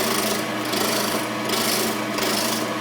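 Mahogany blank spinning on a wood lathe at about 1500 RPM as a tool takes off its rough edges, a continuous rasping scrape with a gentle rhythmic swell roughly every second, close and steady.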